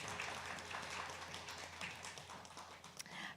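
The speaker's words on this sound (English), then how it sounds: "Please, can I get a round of applause for Miss Guyana?" An audience at a beauty pageant press conference gives Miss Guyana a round of light, faint, scattered applause in a roomy space.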